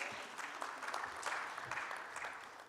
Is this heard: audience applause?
yes